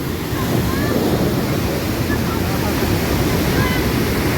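Loud, steady roar of water rushing through a dam gate filling the whole scene, a dense continuous wash of broadband noise close by with no pauses.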